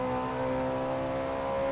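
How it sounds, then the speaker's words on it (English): A Ferrari 458 Italia's engine in the racing game Forza Horizon 4 holds a steady, loud, high-pitched drone at constant revs, with no talk over it. "They did a really good job on this Ferrari sound."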